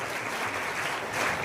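An audience at a school group performance and prize event bursts into dense, steady clapping, loud and continuous for the whole moment, with no voices over it.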